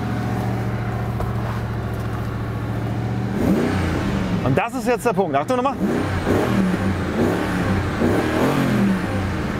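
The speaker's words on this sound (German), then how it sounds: "und jetzt geben wir mal ein bisschen Gas" A V8 car engine revs up in blips with a sharp, aggressive tone in the middle, under someone talking in German over steady idle throughout.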